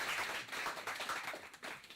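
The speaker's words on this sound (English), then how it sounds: "Please, a round of applause for our president." Faint, steady applause from the audience at an APC France general meeting honours the president, a soft continuous patter of many hands heard at a distance.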